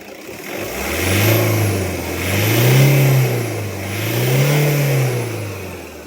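A car engine, freshly fixed after an alternator repair, revs hard three times in slow, even swells, each rise and fall loud and close with a brief settling between, no talk over it.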